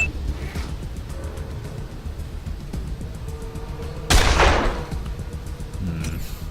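Gunfire in the post-apocalyptic video game Wasteland 2 during a turn-based fight, with a loud sharp shot burst around the middle standing out over a steady bed of game ambience and low rumble.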